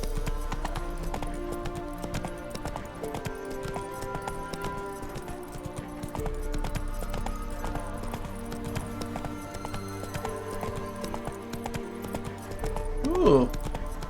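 A horse gallops in The Witcher 3: Wild Hunt, its steady clip-clop hoofbeats running continuously alongside game music and ambience, with a brief louder burst near the end.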